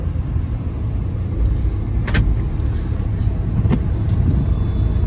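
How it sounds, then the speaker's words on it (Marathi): A car drives through heavy rain on Bhatgaon road near Abloli, giving a loud, steady interior rumble of engine and road noise mixed with rain on the body, with a couple of brief knocks or clicks. "आपण कारमध्ये बसलोय आणि जबरदस्त पाऊस पडतोय।"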